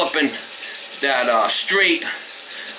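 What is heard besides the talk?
hot water running from a kitchen tap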